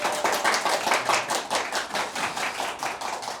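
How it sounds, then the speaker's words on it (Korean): Rhythmic clapping from a small audience at a televised debate event, a steady patter of applause that holds at moderate volume without any voices. "뜨거운 박수로 시작하겠습니다"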